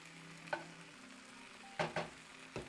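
Spinach sautéing in a pan on a cooking show, with a faint soft sizzle broken by a few short stirring knocks and tosses, close and quiet.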